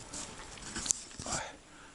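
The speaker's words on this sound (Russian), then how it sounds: "белку лает" A dog barks at a squirrel in a berry-filled forest, giving a few faint, distant yelping barks within about two seconds.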